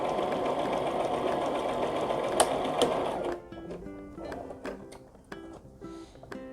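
A sewing machine stitches in a fast steady whir for about three seconds, then stops, followed by sparse clicks and mechanical taps as the needle and fabric are handled.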